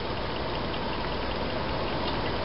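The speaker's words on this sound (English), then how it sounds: "It's a very high speed motor." A Bedini zero force magnet motor spins at high speed, giving off a loud, steady broadband whir and hum that holds unchanged throughout with no speech.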